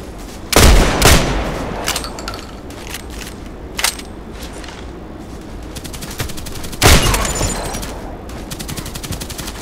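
Gunfire in the video game Contract Wars, with two loud bursts of automatic fire spaced several seconds apart and scattered single shots and clicks in between, all close and sharp.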